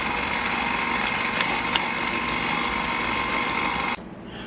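Electric mixer whirring steadily while blending pound cake batter with egg yolk mixture added, a constant high motor drone that cuts off near the end.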